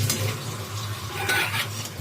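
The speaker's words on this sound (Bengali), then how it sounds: "এবার এটাকে এবার আমি এই আস্তে আস্তে ভাজবো" Stuffed teasel gourd (kakrol) fries in a pan with a steady close sizzle, punctuated by light scraping and clinks of a utensil moving the pieces, with no talking.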